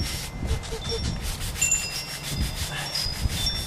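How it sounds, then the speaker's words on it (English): A metal wire brush scrapes repeatedly across a brick wall to loosen concrete residue, producing short, gritty rubbing strokes at close range in an uneven rhythm. "This metal brush is taking off."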